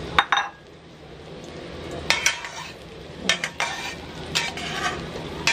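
Clinks of a utensil against a pan, with scraping and stirring, over a low sizzle as a cha-om (acacia leaf) omelette fries in oil on raised heat, close and fairly loud.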